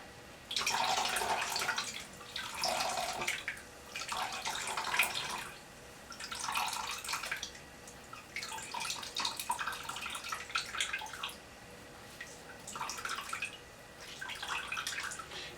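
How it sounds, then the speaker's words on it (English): Homemade almond and cashew milk runs out of a strainer bag squeezed by hand, coming in repeated bursts of splashing liquid about every two seconds, close and fairly loud, with quiet pauses between squeezes. "See it running out? And I just squeeze it."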